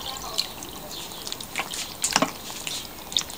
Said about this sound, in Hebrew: אני מוסיפה 3 כוסות מים בכוסות חד פעמיות